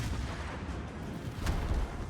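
Tier 10 cruiser Hindenburg firing its main guns in World of Warships, dense booming salvo rumble with sharp reports around the middle and end, alone with no talk.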